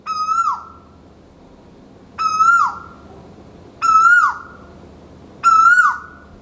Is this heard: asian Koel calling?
yes